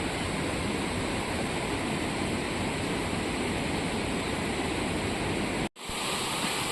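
A village river swollen after heavy rain rushes in a constant, dense roar close by, broad and unbroken apart from one momentary dropout near the end.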